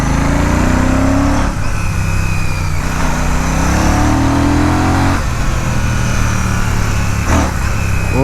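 Royal Enfield Classic 650 parallel twin motorcycle engine running steadily while riding in second gear, a loud continuous low rumble with throttle swells and wind rush, no voices.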